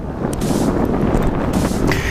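Strong wind buffets the microphone on a chilly night at Cavalier Stadium, a loud, gusty rumble with short bursts of turbulence throughout.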